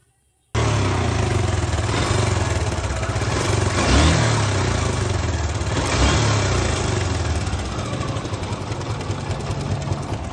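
A Suzuki Gixxer SF carburetor motorcycle in poor condition starts up and runs roughly, its engine chugging loud and close with uneven clattering and a couple of brief revs.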